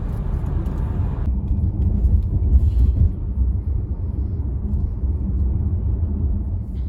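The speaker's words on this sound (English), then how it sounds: "There is very little wind noise at national speed limit" A 2020 Volkswagen ID3 1st Edition electric car cruises at the national speed limit, giving a steady, continuous low road rumble with light wind noise and no engine note, loud and unbroken throughout.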